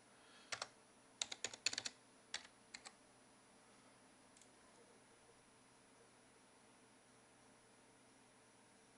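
Short bursts of crisp computer keyboard key clicks as a password is typed quickly, a cluster of taps in the first few seconds followed by faint background hiss.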